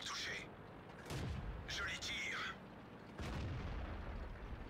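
Tank cannon shots in World of Tanks, a T71 on the Himmelsdorf map: a few heavy booming blasts spaced a second or two apart, loud against a steady game rumble.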